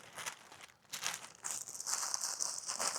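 A taped cardboard package for a leather biker jacket is pried open, giving close, faint crinkling and tearing sounds in short irregular bursts.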